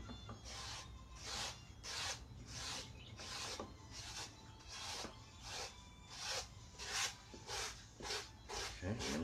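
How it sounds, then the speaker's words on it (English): Sandpaper drawn with very light pressure across a wooden surface, producing a regular series of soft rasping strokes, close and fairly quiet, with no talking. "Just moving the sandpaper across the surface is really all I'm doing."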